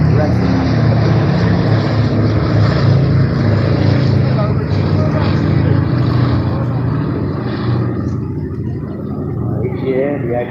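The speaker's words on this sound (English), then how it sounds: "Each year, the aircraft solemnly and beautifully is flown" A propeller aircraft flies past at the Bournemouth Airshow, its steady loud engine drone holding throughout and easing slightly toward the end, with no voices clearly audible over it.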